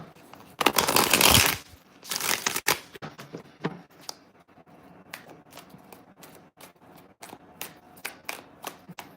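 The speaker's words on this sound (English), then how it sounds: "Let's shuffle it one more time." Tarot cards being shuffled during a reading, with a loud burst of riffling up front followed by sparse, quieter taps and flicks of cards handled close by, no talk.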